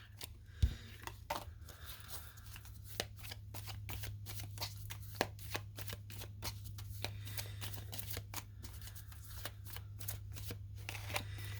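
A Kipper card deck is shuffled up close in a run of quick, crisp riffles and snaps. A steady low hum sits underneath and nobody speaks.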